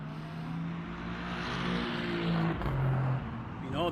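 Race car engines, including an Aston Martin Valkyrie, in the Le Mans Ultimate racing game drone and shift pitch steadily, with smooth rising and falling tones like cars accelerating through gears, moderately loud and continuous.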